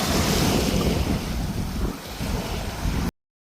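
Sea waves wash onto a beach in Cebu, a loud, continuous surf roar mixed with wind buffeting the microphone. The sound cuts off abruptly near the end.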